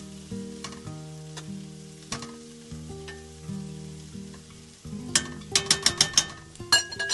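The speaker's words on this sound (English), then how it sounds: "Just gonna leave it to cook or fry for another minute or 2" Onions fry in a pan with a steady, close sizzle, and sharp metal clinks and scrapes of stirring come in toward the end.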